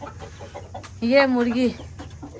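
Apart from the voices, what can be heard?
chicken clucking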